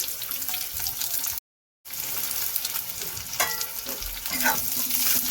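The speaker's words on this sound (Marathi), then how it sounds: "आता कारलं टाकून देणार याच्यामध्ये आणि व्यवस्थित परतून घेणार" Bitter gourd slices frying and being tossed in hot oil in a kadhai, loud close sizzling with spatula scrapes and stirs, briefly cut to silence near the start before resuming, no voices.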